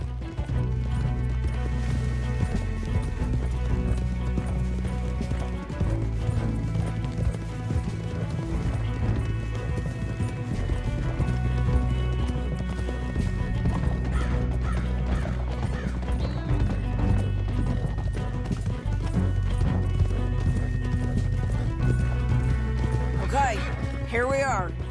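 Horse hooves in Red Dead Redemption 2 clop in a steady galloping rhythm under continuous music and talking, with occasional clattering and a whinny-like sound near the end.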